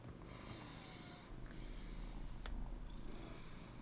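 A black cat purrs close by, a low continuous rumble that swells slightly in the second half, with no talking over it.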